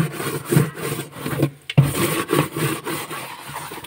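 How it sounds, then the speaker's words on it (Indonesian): Tool scrubbing the sticky rim of a catfish fry bucket, repeated rough back-and-forth rasping strokes in an uneven rhythm, close and fairly loud, with a brief pause near the middle and no talking. "nah ini alat untuk gosok pinggiran ember yang lengket"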